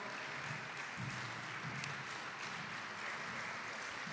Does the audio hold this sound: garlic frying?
no